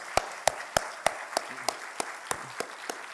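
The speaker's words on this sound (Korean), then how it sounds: "이럴 때 한번 박수 받는 겁니다." A church congregation at a Sunday worship service applauds students and parents with steady, evenly spaced claps, about ten in three seconds, close and distinct with no voices over them.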